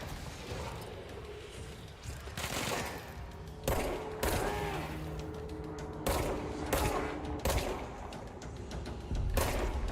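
Bursts of gunfire from the video game Control, repeated sharp volleys at irregular intervals over a steady mechanical backdrop, loud and close with no voices.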